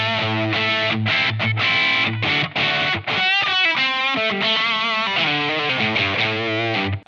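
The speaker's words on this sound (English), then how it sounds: "So the bridge pickup sounds like this without the wah pedal." Les Paul Junior electric guitar on its bridge pickup with the wah pedal off, playing a loud, driven, distorted riff of chords and single notes that runs continuously for about seven seconds with no talking.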